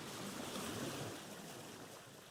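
River water rushes steadily around a boat in the Vintage Story survival game, a soft continuous wash with no voices.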